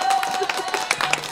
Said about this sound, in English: I even want us to clap for the doctor first.